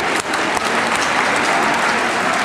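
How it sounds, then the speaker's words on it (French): Loud, dense applause from an audience at a gathering, steady clapping filling the whole moment with a couple of sharper claps near the start, no talk over it. "on va encore applaudir Boris"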